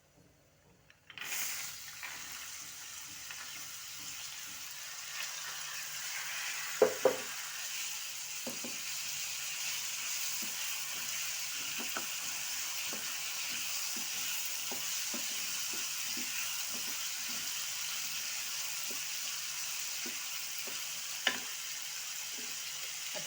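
Soaked chana dal hits a hot pan and sets off a steady, fairly quiet sizzle that runs throughout, with a few brief stirring clinks and scrapes.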